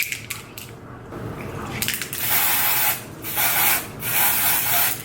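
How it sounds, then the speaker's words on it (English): Tinted lace spray hisses onto the lace of a curly wig in several close, loud bursts, a short one first and then longer sustained sprays separated by brief pauses. "when you're spraying the even tinted lace spray, it's like as soon as you spray it, the lace is tinted"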